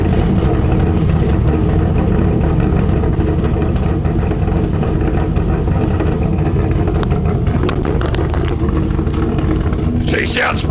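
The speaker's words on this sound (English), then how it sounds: "we're going to wrap this video up with a cold start" A cammed LS V8 in a Holden Commodore ute fires up from cold and settles into a loud, lumpy, uneven idle close by, with a sharp burst of revving near the end.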